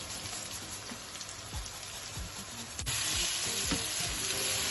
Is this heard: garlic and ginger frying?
yes